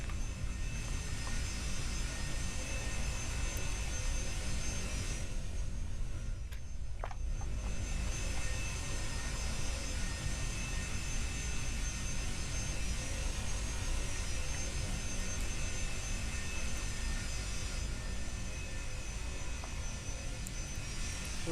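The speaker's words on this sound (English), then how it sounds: "I'm flying a rare plane." Engine of a Sophia aircraft in flight in a flight video game, a continuous steady jet drone with a high whine, unbroken for the whole stretch, with no talking.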